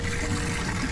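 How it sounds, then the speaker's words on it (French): Water runs from a pump-fed tap in a camper van, a short steady splashing trickle heard up close with no talking. "Et là, vous aurez de l'eau. En ouvrant le robinet, évidemment."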